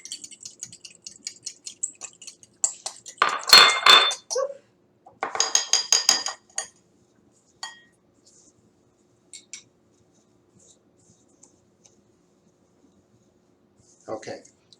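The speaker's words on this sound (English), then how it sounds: "you can do that while I mix the breadcrumbs with the olive oil and the cheese" Breadcrumbs being mixed with olive oil and Parmesan cheese in a bowl, heard as bursts of rapid scraping and clinking from a utensil, separated by quiet gaps, with a few isolated taps afterward.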